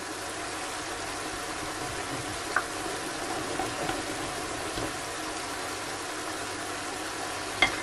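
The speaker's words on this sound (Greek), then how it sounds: "Αφήνουμε στην άκρη, περιμένουμε να τηγανιστούν καλά" Food frying steadily in a pan, a broad even sizzle with a few faint clicks of a spatula stirring, moderately quiet and with no voices.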